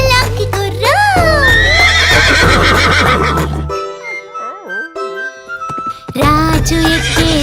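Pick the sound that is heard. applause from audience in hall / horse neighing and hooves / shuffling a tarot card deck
horse neighing and hooves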